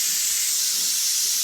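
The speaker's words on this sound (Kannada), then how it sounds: "ಇದು 3 ವಿಸಿಲ್ ಆಗೈತಿ." A pressure cooker cooking mutton curry vents steam in a strong, continuous hiss, loud and steady throughout with no talking.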